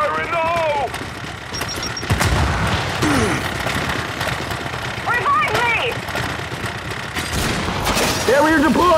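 Chaotic Gears 5 horde battle with a grenade explosion and sustained gunfire, loud booms and rapid shots layered over engine rumble, while characters' voices shout throughout.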